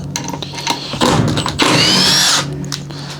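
A Milwaukee M18 FID3 cordless impact driver backs screws out, with short whirring bursts that build into a sustained loud rattling hammering drive lasting about a second, then stops.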